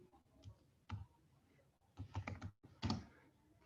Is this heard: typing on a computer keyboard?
yes